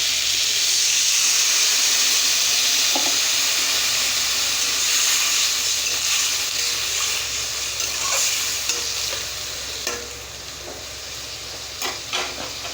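Water poured into a pan of vegetable stalks frying with turmeric: a loud, steady sizzle and steam hiss that slowly eases, broken by a few scraping stirs toward the end.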